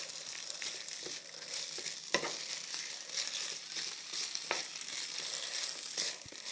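Beef and onion for Tex-Mex fajitas frying in a pan, a broad steady sizzle with occasional stirring scrapes and a few sharper knocks, fairly quiet.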